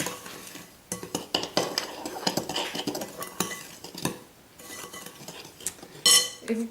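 Spoon scraping and clinking against a bowl while a homemade dishwasher tablet mixture is stirred and sprayed with a little water, a steady run of close, uneven clatter with a sharper knock near the end.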